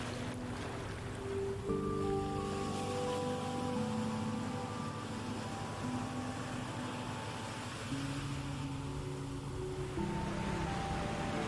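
Ocean surf on a Mauritius coast, a steady rushing wash of waves mixed with wind buffeting the microphone, and a tonal hum running throughout.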